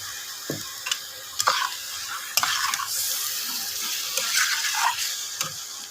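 Sour curd stirred into sizzling Kashmiri aloo dum in a pan, a continuous hissing sizzle with scattered scrapes and taps of the spoon, fairly quiet and close.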